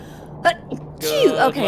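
A single short sneeze bursts out over Barotrauma multiplayer voice chat, followed by a breathy exhale and someone talking right afterward.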